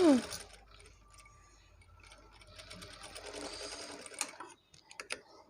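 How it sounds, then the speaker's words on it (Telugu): A sewing machine stitching a small hanging loop on fabric, its needle running in a fast rattling burst before pausing, with a few clicks and handling noises nearby. "ఇలా ఇక్కడ నుండి ఇక్కడికి ఒక స్టిచ్ అయితే పెట్టుకోవాలి"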